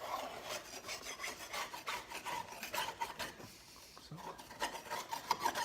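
Scraping caked grass clippings off the underside of a plastic lawn mower deck, a continuous rasping scrape in quick uneven strokes, close and fairly quiet, with one brief spoken word.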